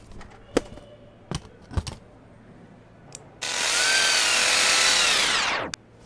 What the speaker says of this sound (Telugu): మార్క్ చేసిన చోట స్క్రూలు డ్రిల్ చేయి